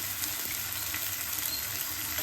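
Onion, tomato and ginger-garlic paste sauté in hot oil for a spicy prawn fry, giving a steady, soft, close sizzle with no talk over it.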